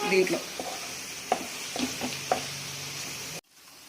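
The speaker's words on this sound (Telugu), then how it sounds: "ధనియాలు, జీలకర్ర, లవంగాలు, దాల్చిన చెక్క, ఈ పౌడర్ కూడా వేసుకుందాము. ఇది కూడా ఒక నిమిషం ఫ్రై చేయనిద్దాం" Ground spice powder of coriander, cumin, cloves and cinnamon fries in hot oil for a mushroom masala curry, a steady sizzle broken by a few sharp knocks of a stirring spoon against the pan before cutting off abruptly.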